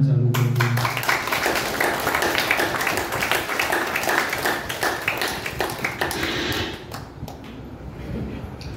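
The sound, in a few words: audience clapping along on request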